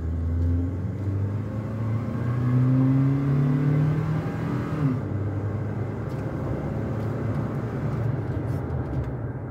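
A 2014 Toyota Hilux SR 2.7 4x2 pickup accelerates on the road, its engine rumble rising in pitch through the gears beneath steady road and cabin noise, heard from inside the cab.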